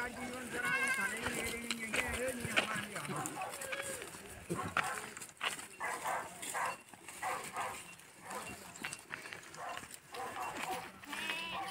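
A flock of sheep bleats repeatedly over a busy outdoor scene by a dried-up maize field, with people talking loudly throughout.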